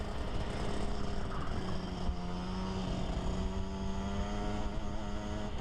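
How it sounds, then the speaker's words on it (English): A DD2 go kart engine drones continuously at close range, its pitch rising and falling through poorly timed gear shifts without any break in the buzzing. "As you can tell by the poorly timed gear shifts, I was still getting used to the gears"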